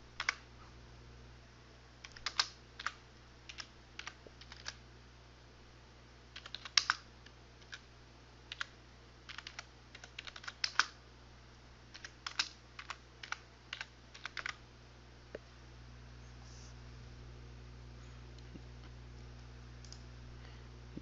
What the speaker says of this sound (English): Type in this information.